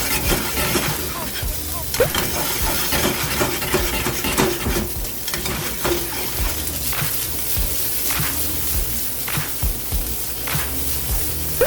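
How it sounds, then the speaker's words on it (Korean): Stir-frying in a small wok over high heat as flames catch, with a steady loud sizzle and repeated sharp scraping and clanking strokes of the utensil against the pan. "불이 막 붙네요"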